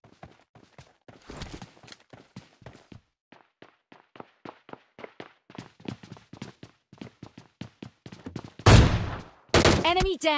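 Gunfire in the video game PUBG Lite, ending in a headshot: dense runs of short, snappy shots and clicks, followed by two much louder, longer blasts near the end.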